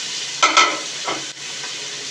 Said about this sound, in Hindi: और इनको अच्छे से फ्राई करेंगे।